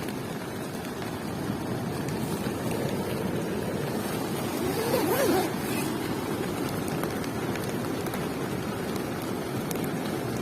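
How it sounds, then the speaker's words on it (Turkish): Heavy rain and gusting wind roar outside a tent in a storm, in a constant wash of noise, with a brief louder surge midway, no clear voices. "Dışarıda deli gibi bir sağanak ve fırtına var."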